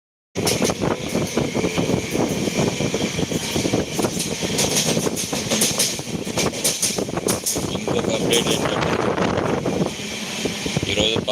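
A passenger train on a journey to Vijayawada, with a continuous loud rumble and rattle of the moving carriage, roaring wind noise and no pauses throughout.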